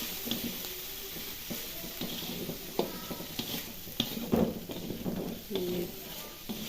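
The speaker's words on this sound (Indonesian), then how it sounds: "Terus kita aduk." Carp roe stirred as it fries in a pan, a steady close sizzle broken by repeated scraping strokes of the spoon against the pan over several seconds, with no talk.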